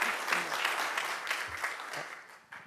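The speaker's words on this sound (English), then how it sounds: "A round of applause for Detective Segreto." Applause at a commission meeting for a detective named Officer of the Year, a steady wash of many hands clapping at moderate volume that thins slightly toward the end.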